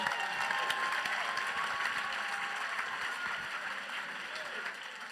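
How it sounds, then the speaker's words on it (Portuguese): Church congregation applauding at a 2019 service in New Jersey, a dense, steady wash of clapping that carries evenly through the whole stretch and eases off only slightly near the end, with faint voices mixed in. "Dê a ele uma poderosa oferenda de palmas."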